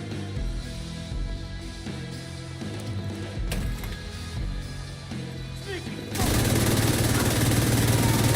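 Rapid gunfire in The Division 2 on Xbox Series X, bursts of close shots and clatter that grow into a dense, louder barrage near the end, with music or effects layered underneath.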